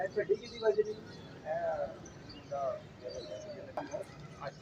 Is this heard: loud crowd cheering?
no